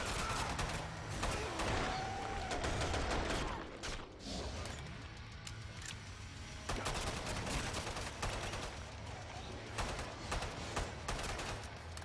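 Rapid automatic gunfire in the video game Killing Floor 2 rattles in dense bursts, with sustained clusters of shots over game ambience.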